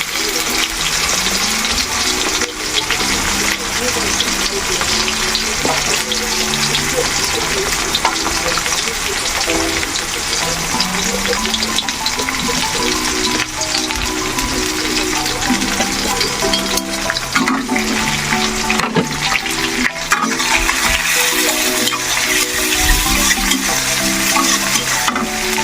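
Sliced onion and whole green chilies fry in oil in a pan, a loud, dense, unbroken sizzle with stirring running throughout, while soft background music plays underneath.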